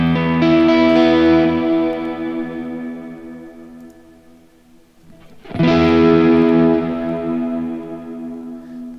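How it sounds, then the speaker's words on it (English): An electric guitar played through an Axe-Fx II with the crystals pitch-shift effect: two sustained chords ringing with shimmering, distorted overtones and echo, the first fading out before the second is struck. "let's do a pitch shift"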